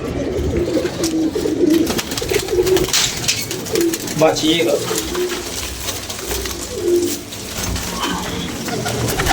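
Pigeons coo repeatedly in low rolling phrases close by, with a voice speaking briefly and other rustling and handling noise around them.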